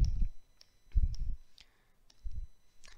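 Keys on an actuarial calculator are pressed in small bursts, sharp plastic clicks with soft thumps, close and clear, grouped into three quick clusters separated by brief pauses.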